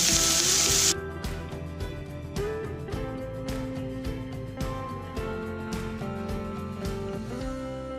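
Cumin, chopped onion and garlic frying in a pan, a loud burst of sizzle at the start settling into a softer continuous crackle with faint clinks, close up, no talking.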